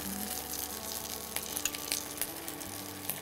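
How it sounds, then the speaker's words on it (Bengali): Ginger paste frying in a pan for Bengali shukto, a steady soft sizzle with a few faint clicks of stirring, fairly quiet and close, with no talking. "আদাটা একটুখানি ভেজে নিয়ে তারপরে দেবেন"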